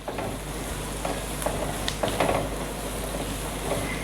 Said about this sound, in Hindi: मटर भी डाल देंगे, सबको थोड़ा पकाएंगे पहले